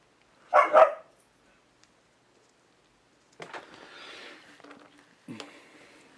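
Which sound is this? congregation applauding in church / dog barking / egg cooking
dog barking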